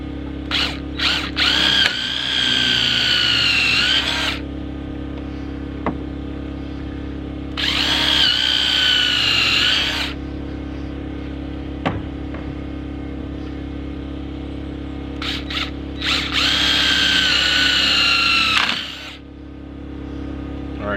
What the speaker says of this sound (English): So I'm gonna lay this down. I'm gonna drill this.